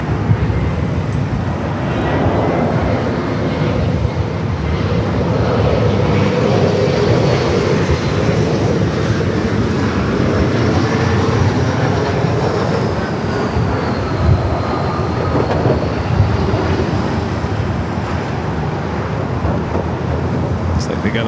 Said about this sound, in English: We don't see very many Volaris taking off here on the north.